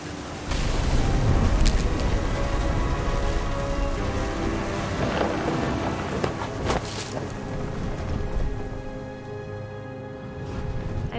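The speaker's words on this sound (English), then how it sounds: "The thunder sounded much too close and full of angry power." Steady heavy rain pours through a thunderstorm in the video game What Remains of Edith Finch, with rumbling thunder and a couple of sharp, close cracks rising over the constant downpour.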